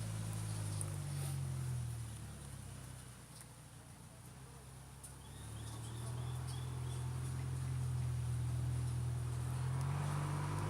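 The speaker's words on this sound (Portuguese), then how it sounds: "Espera aí que vai passar um caminhão aqui" A truck drives past outside, its low rumble swelling, easing briefly, then building again into a heavy drone over ten seconds, with faint bird chirps in the background.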